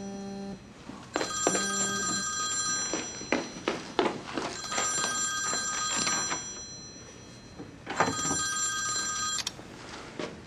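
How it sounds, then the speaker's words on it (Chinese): A telephone rings while a call is placed, with two long bursts of an old-style electronic bell ring separated by a pause, along with soft thumps and room noise, no speech. "那我给他打个电话。"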